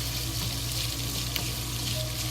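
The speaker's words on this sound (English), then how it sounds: "We add the sausage into it. Just slowly to fry." Sausage frying slowly in oil in a pan, a steady dense sizzle running evenly throughout with no talking.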